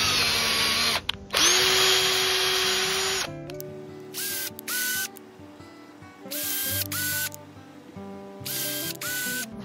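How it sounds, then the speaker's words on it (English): A power drill with a small bit bores into a scrap wooden board, first in a long loud whine, then in several short high-pitched bursts with pauses between them. "I'm gonna go in with a smaller drill bit, and we're gonna work our way up because this wood is gonna split way too easy."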